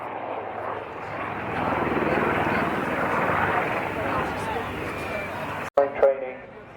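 A Wildcat helicopter hovers and manoeuvres at an air show, its dense rotor and engine roar steady and loud throughout, broken near the end by a sharp gap and a few louder bursts.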